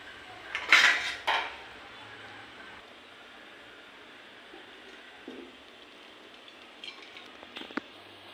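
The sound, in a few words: straining cooked amaranth greens in a pot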